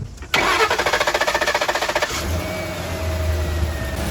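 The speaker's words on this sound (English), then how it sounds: "So I'm going to go ahead and start the vehicle up." A Ford truck with a stalling and no-acceleration fault cranks in a rapid, even chugging run for about two seconds. The engine then catches and settles into a steady, fairly loud idle.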